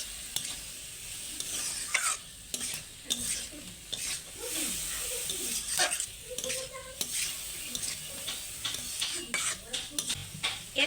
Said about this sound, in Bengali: দিয়ে আবারও ভালো করে নাড়াচাড়া করতে হবে